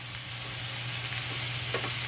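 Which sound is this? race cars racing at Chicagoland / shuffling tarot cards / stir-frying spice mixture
stir-frying spice mixture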